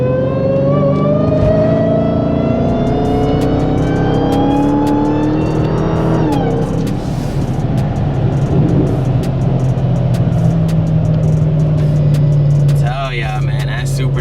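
A supercharged 2020 Dodge Charger SRT Hellcat Widebody accelerates hard on a slushy road in eco mode, its engine note climbing steadily with a rising supercharger whine, loud and close from start to finish.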